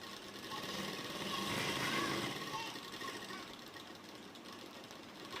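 A sewing machine runs continuously while stitching a salwar seam, a steady, fast mechanical whirr that swells slightly in the middle, with a faint voice in the background.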